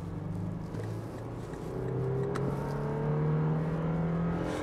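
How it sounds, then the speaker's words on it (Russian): A Toyota Land Cruiser Prado engine rising in pitch as it is revved under gentle acceleration, a steady close drone from inside the car with no talk. "Вот я сейчас слегка газку даю, то есть набирает хорошо. Рев мотора прям отчетливо слышно."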